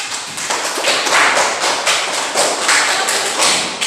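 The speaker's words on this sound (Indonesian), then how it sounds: "beri tepuk tangan untuk kelompok" A classroom of students claps for a group, a loud, dense burst of hand claps that comes in rhythmic surges and continues steadily for several seconds.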